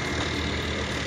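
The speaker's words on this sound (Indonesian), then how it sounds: "Untuk suara mesinnya pun masih sesuai standar, masih bagus sekali." A 2021 Honda Brio RS CVT's engine runs steadily, a dense even hum with no gaps, close by and moderately loud, with no voices.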